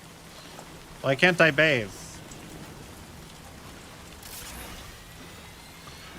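Steady rain falling in the video game Death Stranding 2, a constant soft hiss of drops on surfaces throughout, with a brief spoken line early on.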